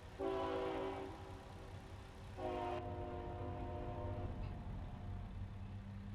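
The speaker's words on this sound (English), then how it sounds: "Big loud train." A big train in American Truck Simulator sounds its horn in two loud, long blasts as it rolls by, with rumbling rail noise continuing underneath.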